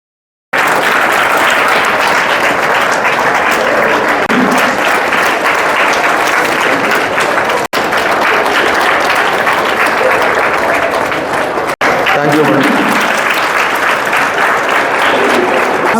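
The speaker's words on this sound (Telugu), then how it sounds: "గట్టిగా చప్పట్లు" An audience at a public gathering honoring the Phule couple claps loudly and continuously, a dense sustained applause with brief breaks near the middle and a murmur of voices underneath.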